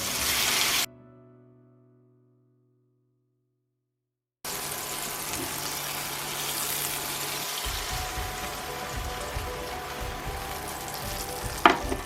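Onions fry in a pan, a steady bright sizzle that cuts out into silence, then returns as a continuous loud crackling hiss with some stirring clatter underneath.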